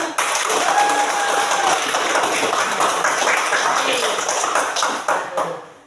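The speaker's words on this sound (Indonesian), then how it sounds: "Tepuk tangan untuk" A class of fifth-grade schoolchildren claps together in their classroom, a dense, steady burst of applause lasting several seconds before tapering off at the end.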